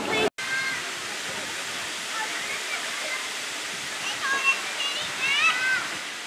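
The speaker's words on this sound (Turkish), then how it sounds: "Şelalede yüzdük. Şelale çok güzel." A waterfall that people swim in roars in a steady, dense rush, loud and close, with faint voices now and then over the water.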